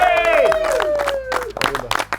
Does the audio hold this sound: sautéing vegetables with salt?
no